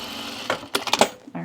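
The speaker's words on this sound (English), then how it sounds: "I'm going to edge stitch it" A sewing machine edge-stitches a pot holder loop in a few short mechanical bursts, close and fairly quiet, and a voice briefly begins at the end.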